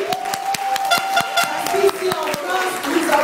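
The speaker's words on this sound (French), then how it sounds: "et il faut applaudir" Audience applause at a rally of African community solidarity in Paris, a dense spread of clapping with crowd noise and a voice carrying over it, steady throughout.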